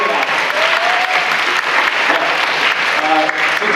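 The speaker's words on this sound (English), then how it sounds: "Let's give him a round of applause" Audience applause at an awards night, a steady, full clapping of many hands that fills the whole stretch without a pause.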